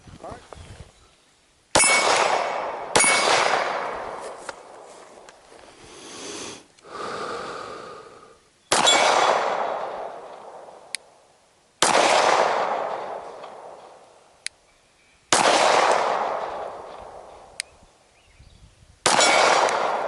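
Single rifle shots fire one at a time on an overland shooting course, each ending in a sharp metallic clang as the bullet strikes a steel target. A voice is heard at moments between the evenly spaced shots.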